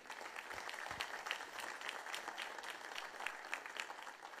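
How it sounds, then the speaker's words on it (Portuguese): A church congregation applauds the pastor with sustained, fairly soft crowd clapping that continues evenly throughout, heard from a moderate distance. "irmãos, com uma salva de palmas."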